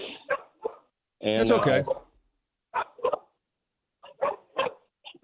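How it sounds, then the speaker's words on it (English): Bulldogs bark and howl, one loud drawn-out burst standing out among short, scattered yelps, with someone talking between them. "My Bulldogs are going crazy."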